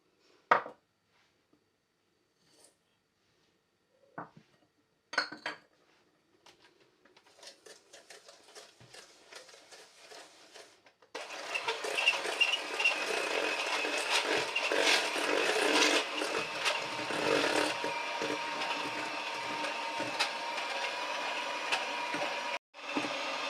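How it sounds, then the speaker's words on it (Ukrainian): Eggs being beaten with sugar for a cake batter, a steady loud whirring mixer drone after a few earlier clicks and short bursts, running continuously near the microphone. "Тепер готуємо тісто, яйця збиваємо з цукром"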